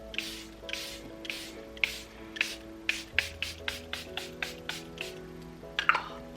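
Charlotte Tilbury setting spray is misted in a long series of quick, evenly spaced short spritzes, close and fairly soft, with no talk over them.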